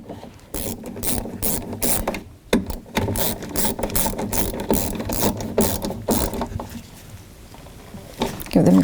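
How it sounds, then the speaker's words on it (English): A ratchet with a 10mm socket tightens bolts on a power window regulator inside the door of a 1983-2001 Jeep Cherokee, its rapid pawl clicking running in steady back-and-forth bursts close to the mic for several seconds. "10mm socket and we'll tighten these up"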